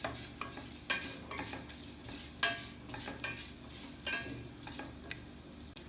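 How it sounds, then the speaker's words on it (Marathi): Mustard seeds, fenugreek and chopped dried red chilies crackle quietly in hot oil, with intermittent sharp pops and stirring clicks over a low background hiss, close by and without speech. "आपली फोडणी व्यवस्थित तडतडून घ्यायची आहे।"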